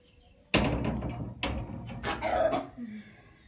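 A dog barks a few sharp, separate times nearby, with short pauses between the barks in an otherwise quiet space.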